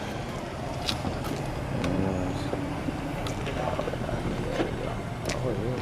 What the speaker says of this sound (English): I'm driving away.